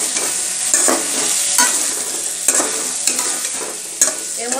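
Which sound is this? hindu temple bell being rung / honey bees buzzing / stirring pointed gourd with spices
stirring pointed gourd with spices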